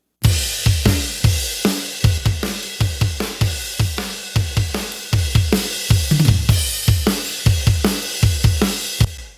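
A drum kit plays a steady groove alone, with punchy kick and snare hits repeating in a regular rhythm, loud and close.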